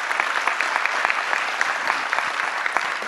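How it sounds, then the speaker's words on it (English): Audience applauding at the 2010 CITT Point / Counterpoint webcast event, a steady, dense clatter of many hands clapping throughout, fairly loud and close. "Yes, a round of applause."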